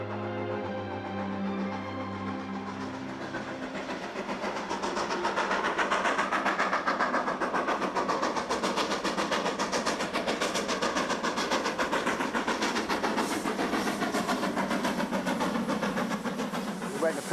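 A steam locomotive works hard through the Devon hills, a dense continuous rushing chuff and rail rumble growing louder and staying steady, with a voice talking over it.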